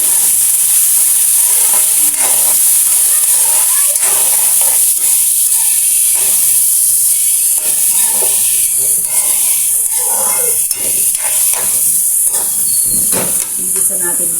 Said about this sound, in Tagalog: Igisa natin yan.